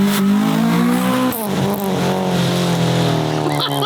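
A car engine revs hard through a full Spoon exhaust while doing donuts, loud and close. The engine pitch rises and falls with each throttle change, and tyres squeal throughout.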